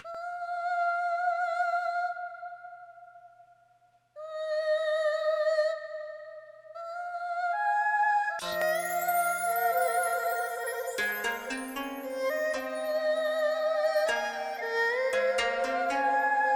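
Chinese female solo vocal sample from the FNO World 6 library, a lone sustained melodic line for about eight seconds, then joined by a dense layer of plucked and bright melodic tones that carries on to the end.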